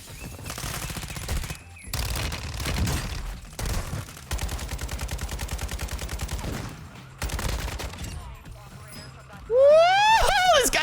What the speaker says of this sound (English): This guy's sniping behind me